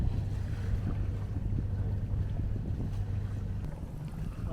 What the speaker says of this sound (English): Lots of wind this morning